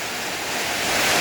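Water rushes steadily down a drainage channel during flooding, a dense close wash of noise that keeps growing slightly louder throughout with no talk.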